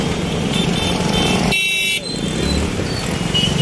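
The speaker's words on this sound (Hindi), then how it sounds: "यहाँ पे बहुत ट्रैफिक हो जाता है" Busy road traffic at a crowded crossing, with motorcycles and cars roaring close by under dense, constant engine noise; a brief high electronic tone cuts through midway, and no clear speech stands out.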